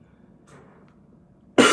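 A single sharp, loud cough bursts out at the very end from a person close by, after near silence.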